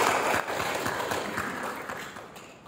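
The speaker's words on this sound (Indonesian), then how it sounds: "tepuk tangan buat Bung Karno" A forum audience applauds for Bung Karno with a soft, continuous patter of many hands that fades gradually over a couple of seconds, heard from a moderate distance.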